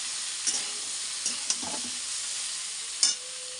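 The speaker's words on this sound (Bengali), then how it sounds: "তেলের মধ্যে কালো জিরা ফোড়ন দিয়েছি, আর কাঁচা লঙ্কা দিয়ে আগে পটল আর আলুটা কিছুক্ষণ ভেজে নিচ্ছি।" Pointed gourd and potato frying in oil with nigella seeds and green chilli, a steady hiss of sizzling oil with a few sharp spatula scrapes and taps against the pan.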